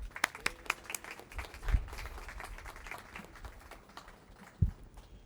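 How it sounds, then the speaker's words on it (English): Applause from the audience at a Long Beach press event for the Mayor's Fund to End Homelessness, a thin spread of scattered claps with a few sharp, close hand strikes, fading off over several seconds with no speech. "So let's give her a round of applause."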